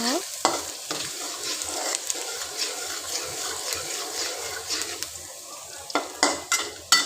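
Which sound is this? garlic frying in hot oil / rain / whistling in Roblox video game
garlic frying in hot oil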